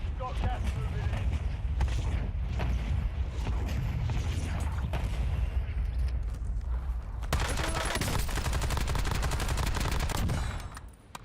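Rapid gunfire from the Warzone battle royale video game, bursts of automatic shots and impacts crackling densely throughout, with a voice speaking over the action.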